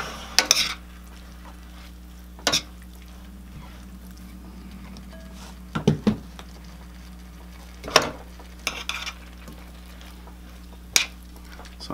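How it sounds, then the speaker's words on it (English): A spoon stirs thickening cornstarch sauce in a pan: a low steady background hum broken by sharp, occasional scraping clinks and knocks of metal against the pan, heard at close range with no voices. "So I'm just gonna stir this in here until we start to thicken up a little bit"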